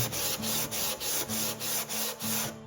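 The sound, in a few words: hand sanding and scraping a wooden guitar neck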